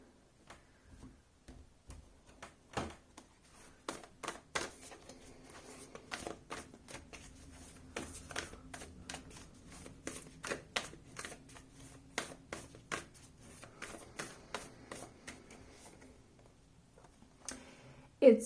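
Affirmation cards being shuffled with soft, close riffling and tapping that comes in quiet irregular bursts over a hushed background.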